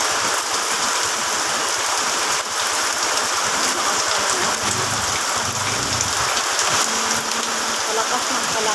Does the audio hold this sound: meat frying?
no